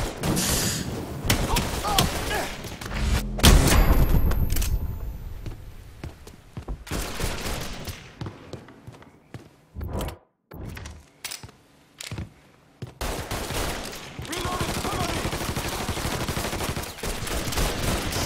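Gunfire in Mafia 3: dense bursts of shots, loud and close, with a louder blast early on, then broken, separate reports during a quieter stretch, and rapid firing picking up again toward the end.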